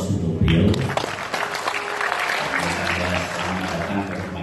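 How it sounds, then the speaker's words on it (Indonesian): Audience applause at a university rector candidates' vision and mission presentation at UNS, a dense sustained clapping from a hall crowd lasting the whole stretch, with faint voices mixed in. "Kita berikan aplaus untuk beliau."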